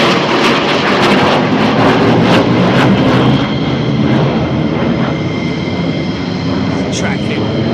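F-16 fighter jets at RAF Lakenheath roar loudly as they pass by, a broad, sustained jet rumble that slowly eases off, with people talking beneath it.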